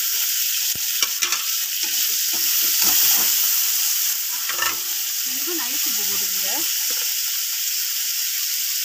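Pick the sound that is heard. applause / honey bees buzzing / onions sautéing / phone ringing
onions sautéing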